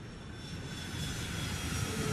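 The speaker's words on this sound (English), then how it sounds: "Just Emirates 380 is just going up over there." An Emirates Airbus A380 jet climbs away after takeoff near Heathrow Airport. Its engines give a steady, broad, loud roar that swells slightly and holds without a break. No one talks.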